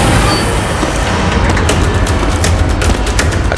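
Heavy gunfire in the action game Gungrave G.O.R.E, a loud dense barrage of shots and booms, with rapid sharp bursts growing more distinct in the second half over a constant roar, with no talking.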